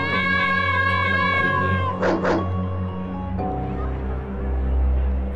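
Cat meows and caterwauls from the video game Doom and Destiny, a couple of loud, drawn-out cries over steady game music, with no talking.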